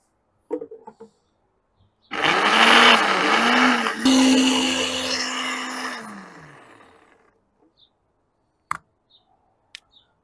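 A blender whirs loudly for about four seconds, blending pesto with cheese added, its motor pitch dipping and rising before spinning down, framed by a few clicks before and after.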